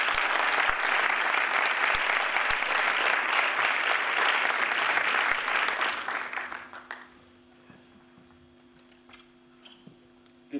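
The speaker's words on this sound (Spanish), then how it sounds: "Un aplauso para él, por favor." Loud, dense applause from a festival gala audience welcoming the mayor of Zaragoza, sustained for about six seconds before fading abruptly into a quiet room with faint tones.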